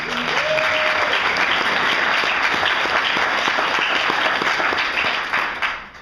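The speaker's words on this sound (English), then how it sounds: "another round of applause for the panelists" A conference audience applauds a patient panel with sustained, dense clapping at steady loudness that fades near the end, with a brief tone at the start.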